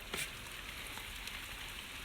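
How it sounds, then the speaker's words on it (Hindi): Steady hiss of heavy village rain falling on surfaces, soft and even, with a brief louder patter near the start. "बहुत ज़्यादा बारिश हो रही है अभी तक, ये सुबह से शुरू हुई है"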